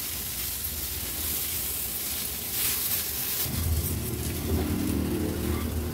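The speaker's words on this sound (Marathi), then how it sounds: "आता मी ह्या फोडणीमध्ये 1-2 मिनिटांसाठी फक्त परतून घेते, म्हणजे सर्व मसाले ह्या आवळ्याला व्यवस्थित लागले जातील।" Amla pieces sauté in a hot spice tempering for a pickle, a steady hiss that swells into a louder, fuller sizzle partway through, with no talk.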